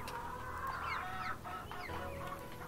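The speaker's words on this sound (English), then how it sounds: "Okay, chickens, come and get it." Chickens clucking and calling in the Nancy Drew game Secret of Shadow Ranch, with several overlapping soft clucks over a steady ambient background, fairly quiet and without speech.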